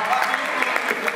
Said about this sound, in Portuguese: palmas para a Macau